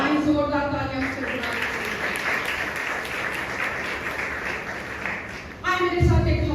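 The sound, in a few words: loud applause from congregation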